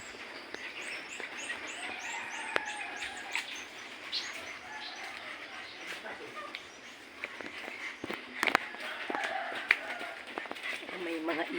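Many birds call and chirp at a distance over steady rain-soaked ambience, with the calls scattered through the stretch and occasional louder bursts and background voices.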